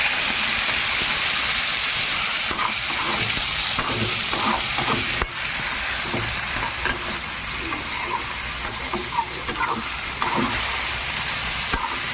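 Steady, loud sizzling of potato and onion frying in oil, with occasional stirring scrapes running throughout.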